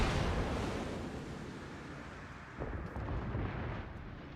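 Battleship gunfire striking the Tirpitz in a naval video game, a heavy booming rumble that swells and rolls continuously with a fresh burst of impact midway, with no voices.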